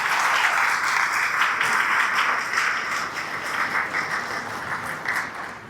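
A roomful of people at a chamber of commerce awards celebration gives anniversary honorees a round of applause, a dense, even patter of many hands that continues strongly and tapers slightly toward the close.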